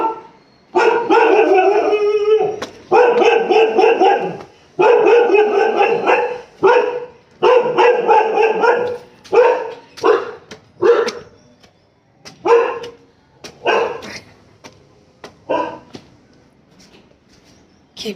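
A dog barking close by in long runs of loud, rapid barks and yips, the bursts growing shorter and more spaced out and fading toward the end.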